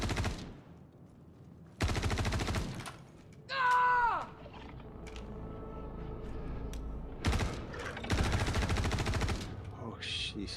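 Bursts of LMG machine gun fire in the Star Citizen video game, several long rapid rattling volleys, loud and close, separated by pauses with a brief mechanical whine and background rumble in between.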